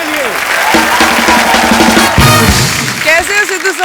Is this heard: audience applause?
yes